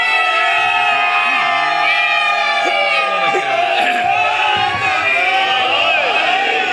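A large religious gathering on the 11 Rajab celebration of Mola Ali in Lahore shouts a slogan together, loud and close, a massed roar of many voices with individual cries rising above it.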